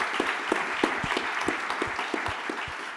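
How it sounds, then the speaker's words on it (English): Audience applause at a family business conference, a dense wash of many hands clapping with a steady roar and individual claps standing out, moderately loud and sustained throughout. "A round of applause."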